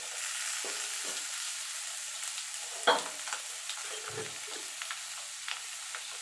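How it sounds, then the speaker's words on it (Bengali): Potatoes frying in hot oil for aloo dum, a steady bright sizzle with a few soft knocks and scrapes of stirring, close and alone. "দেখুন বন্ধুরা, তেলটা গরম হয়ে গেছে। এবার আমি আলুগুলো ছেড়ে দেবো। দিয়ে আমি আলুগুলো লাল লাল করে ভেজে নেব।"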